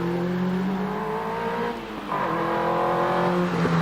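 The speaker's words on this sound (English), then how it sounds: "Andrew Wilcox, car number 32, is on the hill at the moment in the Caterham Super 7 1600" A Caterham Super 7 1600 race car climbs a hillclimb course, its engine note rising steadily, dropping briefly on a gear change or lift, then climbing again, loud and fairly close.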